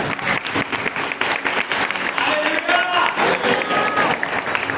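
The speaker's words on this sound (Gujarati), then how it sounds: "તાળી પાડો પ્રભુના નામે." A church congregation claps together in a long, loud burst of applause with crowd noise and voices mixed in, the rhythmic hand claps filling the hall.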